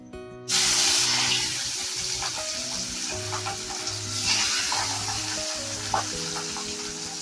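Fish dropped into hot oil in a kadai, bursting into a loud, continuous sizzle right after a brief quiet start, with crackling and spattering throughout and background hum, no talking.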